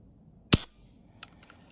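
Pulling the trigger on a Crosman Drifter air rifle gives one sharp, close mechanical click, followed by a few faint, small ticks from the mechanism in a quiet room.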